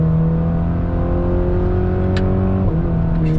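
A 2021 Cadillac CT4-V engine revs steadily and loud, its pitch holding high before a quick shift and climbing again, with no voices.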